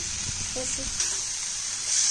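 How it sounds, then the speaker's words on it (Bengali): Crushed dried fish (shutki) stirred into a spiced fry in a pan, giving a steady hiss of sizzling oil with brief scraping stirs, close and continuous, with a faint voice in the background. "এই যে শুটকি দিয়া এখন ভালো মন্দ নাড়াচাড়া করা লাগবো বহুত টাইম"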